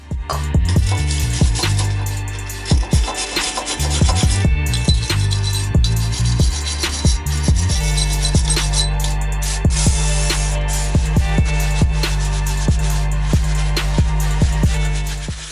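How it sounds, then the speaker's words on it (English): A wire brush scrubs the surface of a new brake rotor for a Miata, making repeated harsh scratching strokes with sharp metallic clicks and clanks, loud and close, with no talk. "I'm going to clean the surface with a wire brush and some brake cleaner."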